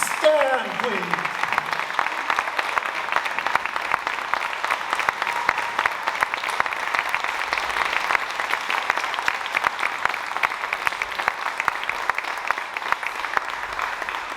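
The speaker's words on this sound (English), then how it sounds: "Keep the applause going." Audience applauds after a student side-by-side music performance, sustained clapping filling the room at moderate loudness, with a short voice heard at the very start.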